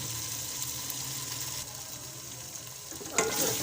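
Potatoes frying in a pan give a soft, steady sizzle at low volume, with a brief clatter of stirring near the end.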